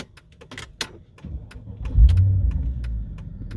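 A 2008 Mercedes S63 engine restarts after stalling, with a few clicks and taps, then a low rumbling catch that settles into a steady close idle.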